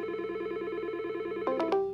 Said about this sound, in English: You see it's dialing.